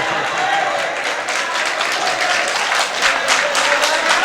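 Audience applause at a mushaira poetry gathering, a dense steady wash of clapping from a crowd that holds at an even level throughout, with faint voices mixed in.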